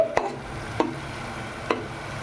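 A spoon scrapes and stirs through pudina rice frying in oil in a pan, three short distinct strokes over a low, soft sizzle.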